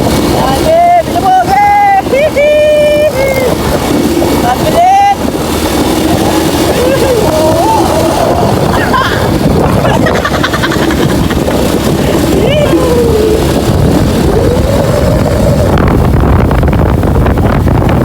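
A boat motor runs steadily on the water while wind buffets the microphone, and voices talk loudly over the engine throughout.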